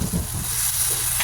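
Garlic frying in margarine in a pan, a steady close sizzle and hiss throughout with no talking.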